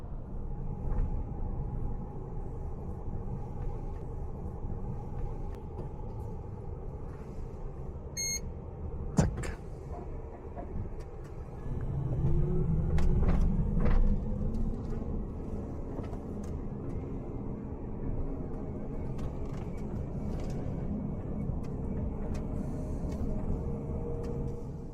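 An upcycled electric truck, an old scrapyard truck converted and towing a short trailer, drives along a road with a steady low rumble, a few clunks from gear changes, and a brief beep partway through.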